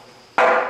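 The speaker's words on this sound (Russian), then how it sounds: "Смотрите, какой звук издает вот деревянный молоток от удара, соответственно, деревянного вот этого таландона." A wooden mallet strikes a wooden talandon (semantron) once in Greece, giving a sudden, loud, close knock that is both dull and ringing and fades briefly after the hit.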